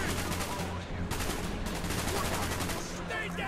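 Sustained gunfire in the Call of Duty: Black Ops campaign, dense bursts of automatic weapons crackling steadily throughout under a busy combat soundscape, with faint voices mixed in.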